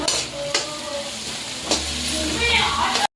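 Green chillies frying in a pan for egg rice, a loud close sizzle broken by several stirring scrapes and knocks of a spoon against the pan.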